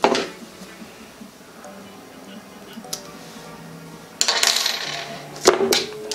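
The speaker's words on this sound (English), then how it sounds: "Now here, I'm gonna cut this line." Fishing line is snipped while rigging a Zman Pop Shadz lure with a treble hook, giving a few small sharp clicks and ticks, the clearest near the end, in a quiet room with faint handling noise.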